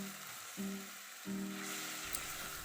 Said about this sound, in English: So I'll just continue braising the onions like this.